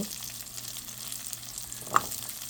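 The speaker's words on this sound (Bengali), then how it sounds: "এটা একটু ভেজে নিচ্ছি ভালো করে ধুয়ে, রসুন দিয়ে দিলাম" Washed fesa shutki, a Bangladeshi dried fish, sizzles with garlic in a hot pan, a steady close frying hiss with one brief sharp clink or spatter near the end.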